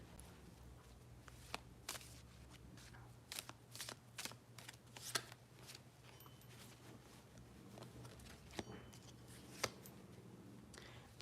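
Tarot cards shuffle quietly at close range in a series of crisp, papery riffles and slaps, irregularly spaced, soft overall with occasional sharper snaps.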